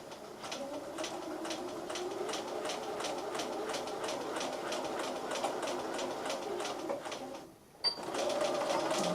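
A sewing machine stitching a seam in fabric, its needle running in a steady fast mechanical pulse, close and moderately quiet, briefly pausing before resuming.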